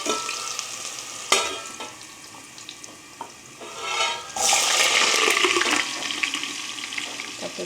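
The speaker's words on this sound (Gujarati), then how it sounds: "બટેટાને ઘીમાં ફ્રાય કરવાના છે અને મારું અહીંયા ઘી બહુ ગરમ થયું છે." Potato pieces hit very hot ghee in a pan with asafoetida, giving a sudden loud, steady sizzle that follows a few clanks and stirring sounds; the crackle continues close and strong to the end.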